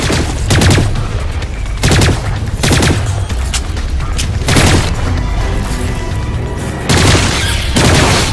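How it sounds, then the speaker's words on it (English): Bursts of gunfire in the video game Lost Planet 3: loud rapid volleys and booming shots come in repeated clusters, several separate barrages spread over a few seconds of continuous combat noise. "Some shooting there."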